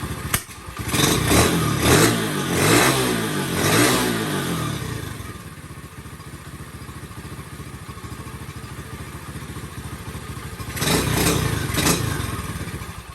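A motorcycle engine revs in several sharp bursts, settles into a steady idle, then revs again briefly near the end; no talking.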